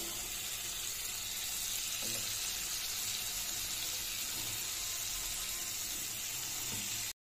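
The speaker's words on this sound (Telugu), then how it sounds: "ఇప్పుడు దీంట్లోని ఒక్కొక్క పీసు ఇలా వేసి లైట్గా ఫ్రై చేద్దాం" Chicken pieces frying lightly in butter for butter chicken, a quiet, continuous sizzle with a few faint knocks from the pan, no talking.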